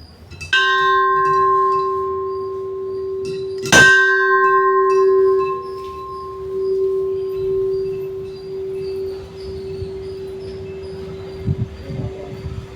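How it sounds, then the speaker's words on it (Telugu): Large bell at the ancient Chennakesava temple struck twice, each strike ringing out with a long, sustained metallic hum that slowly fades across the temple space. "ఇది స్పెషల్ గంట అన్నమాట."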